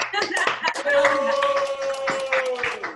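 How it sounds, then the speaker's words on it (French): A group claps after a laughter yoga exercise during an online workshop, with quick irregular hand claps and a little laughter mixed with speech, all fairly close. "Bravo à tous, vous pouvez vous applaudir."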